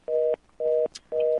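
Three evenly spaced electronic telephone beeps after a dropped caller's line, each lasting about a quarter second, clear and alone.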